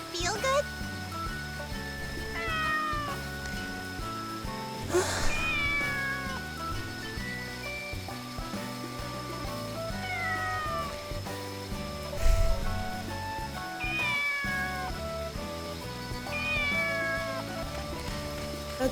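A domestic cat meows repeatedly at intervals of a few seconds, close and clear, with some talking and background noise around the calls.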